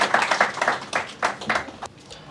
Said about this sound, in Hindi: आप सभी से चाहूँगा कि तालियों से हमारे अतिथियों का सम्मान करें